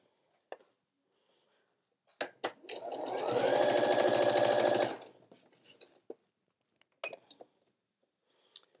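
A sewing machine runs a straight stitch with a quarter inch seam in a steady, close whirring burst of about two seconds, framed by scattered clicks and handling noises in a quiet room.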